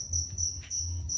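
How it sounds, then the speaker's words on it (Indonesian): Crickets in boxes at a cricket farm chirp in close, loud, shrill trills, several pulses repeating in a steady rhythm with short gaps, over a low background hum. "Dan ini indukan demang jangkrik yang terakhir."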